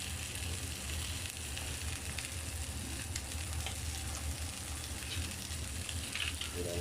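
Ham frying in a pan as its fat renders out, a steady, close sizzle and crackle running unbroken throughout with no talk.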